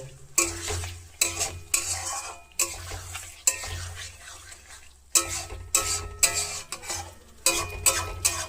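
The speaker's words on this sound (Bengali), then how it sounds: "কেটে রাখা কচুরমুখী আর আলুটা দিয়ে সুন্দর করে এটাকে নেড়ে নেড়ে চারিদিকে মাখিয়ে দেব" Taro roots and potatoes are stirred with spices in a pan, giving repeated scraping strokes of a utensil against the metal over a soft sizzle, close and steady, with brief pauses between sweeps.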